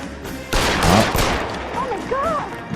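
Gunshots in the video game L.A. Noire burst out as a sharp, loud volley about half a second in, then ring out into a fading tail while voices speak.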